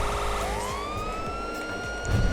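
A police siren in the game FiveM wails upward and sweeps steadily over a low engine rumble, moderately loud and fairly close.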